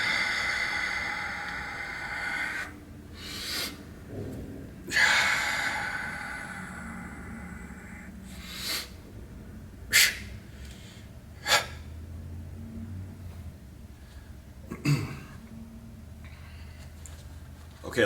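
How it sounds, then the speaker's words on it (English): During an internal kung fu palm strike exercise, sharp audible breaths and forceful exhalations come in irregular bursts, several strong and sudden, with softer rustling and breathing noise between them. "now let's practice this with the correct breathing"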